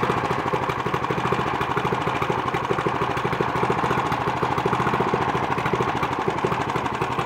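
A cold engine idles close by just after being started, with a loud, lumpy, rapidly pulsing rumble and a knocking rhythm that holds steady throughout.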